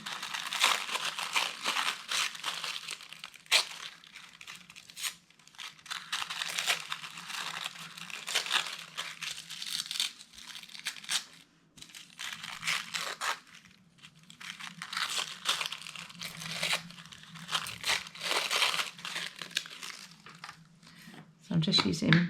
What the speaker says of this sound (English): I'll just stick down some tissue paper.